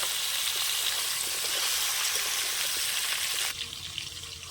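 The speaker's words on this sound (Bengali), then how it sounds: "দুই তিন মিনিট সবজিগুলো ভেজে নিয়েছি" Vegetables for Bengali shukto fry in a pan with a steady, dense sizzle that runs on alone, then drops lower and quieter for the last second.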